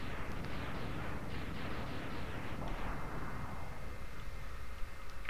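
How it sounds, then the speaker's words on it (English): Explosions in the Super Nintendo game Mega Man X crackle as a rapid series of rough bursts, fairly quiet and continuous, fading at the end. "you just have to love those Super Nintendo explosions"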